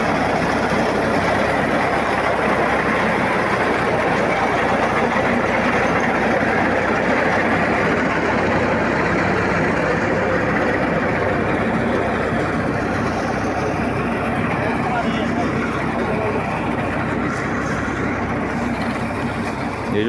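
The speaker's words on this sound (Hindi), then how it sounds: "अब फिर ये ना रैपर वाला हमारे पीछे आ रहा है। यूँ ऐसे कटाई की जाती है।" A reaper harvester cuts a wheat field, its engine droning in a loud, steady, continuous roar close by, with the machine working right behind the listener.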